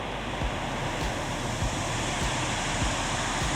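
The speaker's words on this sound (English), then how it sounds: "Very noisy though with the waterfall." Steady, loud rushing water from a waterfall on the Monk's Trail to Doi Suthep roars continuously, a dense broadband wash close by with no pauses and no voices.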